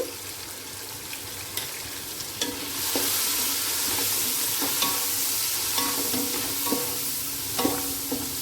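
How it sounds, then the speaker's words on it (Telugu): Onions fry in a pan with turmeric and salt, a loud sizzle that swells after a few seconds, punctuated by scattered scraping stirs and utensil taps, no speech. "ఈ ఆనియన్స్ లైట్గా వేగాలి"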